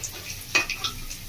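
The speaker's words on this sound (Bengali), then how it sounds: "এবার আমি পনিরগুলো ভালো করে একটু ভেজে নেব" Paneer pieces frying in hot oil in a pan, a steady sizzle punctuated by a few sharp metallic scrapes and stirring clinks, close and unaccompanied by speech.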